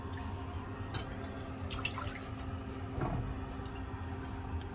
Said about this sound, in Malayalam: റൈസ് നമ്മൾ വാഷ് ചെയ്യണം.